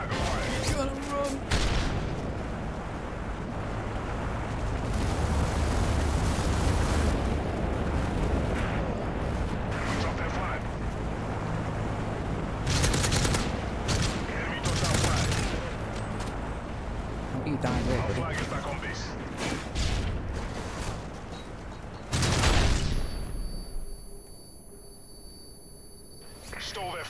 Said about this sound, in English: Enemy strike run incoming.